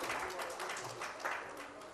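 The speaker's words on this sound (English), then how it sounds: "Huge round of applause for all our panelists." Audience applause for the panel at a healthcare summit, a broad steady wash of clapping that fills the whole moment with no clear break, heard at moderate distance.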